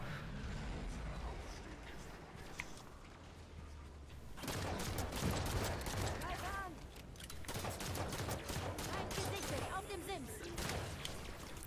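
Rapid bursts of gunfire crackle throughout, dense volleys including shotgun fire from Halo 5 on Xbox One, loud and continuous with brief lulls, over a low rumble of background noise.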